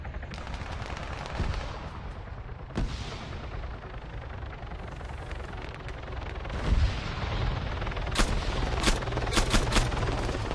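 Gunfire echoes across an Arma 3 King of the Hill battle under a constant rumbling wash of distant combat. Sharp, closer reports crack out in a quick cluster toward the end, and no one speaks.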